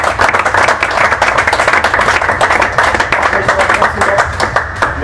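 Group applause from a team gathered at a handball Final Four event, dense rhythmic clapping that runs steadily for several seconds with a few voices mixed in underneath.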